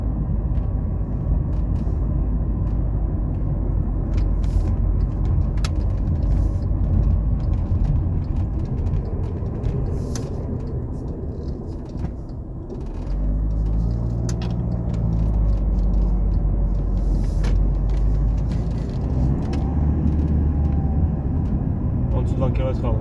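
A car creeping along slowly in first gear below about 20 km/h, its low engine rumble steady throughout with a brief dip midway, under continuous talk in the cabin.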